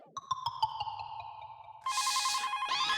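A mobile phone ringtone plays alone in a quiet room, a steady repeating electronic melody that grows fuller and brighter partway through, loud and close.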